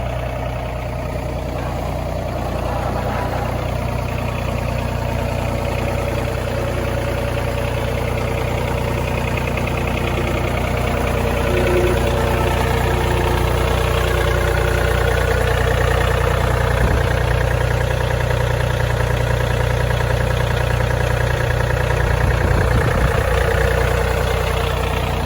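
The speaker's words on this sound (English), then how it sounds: "We're gonna run this thing over with the tractor." A heavy tractor engine idles close by, a low, steady throbbing rumble holding for the whole stretch with no voices.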